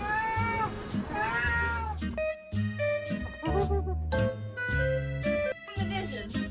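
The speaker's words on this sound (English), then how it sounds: "The cat's in the dishwasher." A cat meows repeatedly inside a dishwasher, a run of drawn-out, rising and falling cries close by, separated by brief gaps, with light clinking of dishes.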